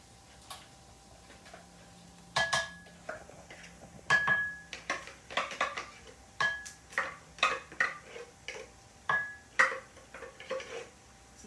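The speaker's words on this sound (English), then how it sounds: "And so now we're going to add these beans to our pot" Canned white beans being added to a cooking pot with bacon for baked beans, heard as a series of close metallic clinks and taps from a spoon and can against the pot, irregular and fairly crisp, with no talk.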